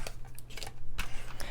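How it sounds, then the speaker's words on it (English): A tape runner lays adhesive along a 2 3/4 by 5 1/2 inch card layer for a wedding card, making quick, close clicking and rasping strokes in short bursts. "So I'm just going to use my tape runner."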